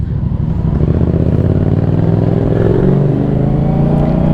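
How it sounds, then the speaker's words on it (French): Motorcycle engines rumble and rev loudly at the Bol d'Or 2023, close by and continuous, with a steady throaty drone that rises slightly as the bikes pass. "Oh les motos."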